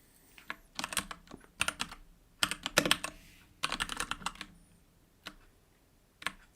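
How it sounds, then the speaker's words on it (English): Fingers type on a computer keyboard in uneven bursts of crisp, close clicks. Short runs of rapid keystrokes alternate with pauses, and a few isolated taps come near the end, with no talk. "I can't type that word for some reason"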